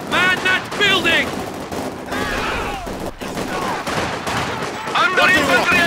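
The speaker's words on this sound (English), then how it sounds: "Under infantry attack! We are taking infantry fire!" Infantry gunfire in the Soviet campaign of the Company of Heroes 2 video game, loud repeated bursts of rifle and machine-gun fire throughout, mixed with shouted voices and battlefield noise.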